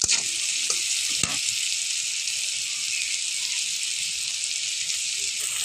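Prawns fry in a pan with a dense, steady hiss of hot oil, close and even, plus a couple of brief clinks near the start and no speech.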